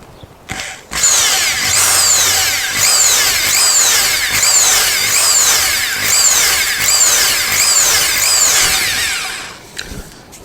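A power drill whirs continuously for several seconds while drilling a hole on a Moto Guzzi motorcycle rebuild, its pitch wavering in repeated cycles as it bites into material, loud and close.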